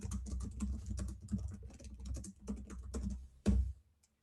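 Rapid typing on a computer keyboard, a steady patter of close key clicks with brief pauses and one louder keystroke near the end.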